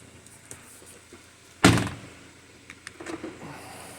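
A single solid thunk as the door of a 2015 BMW 535 shuts, close and loud, followed by faint clicks and rustling in an otherwise quiet space.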